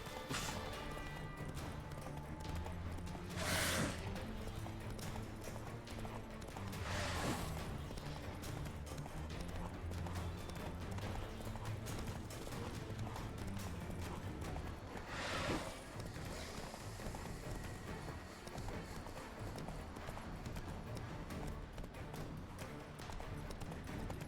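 A horse gallops in The Witcher 3 with steady, muffled hoofbeats under a constant wash of game ambience, broken by a few sharp whooshing bursts.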